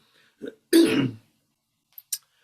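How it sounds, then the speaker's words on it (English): A single rough throat clearing from a man getting over a cold, close and fairly loud, with a couple of faint small vocal noises before and after it. "always clearing my throat"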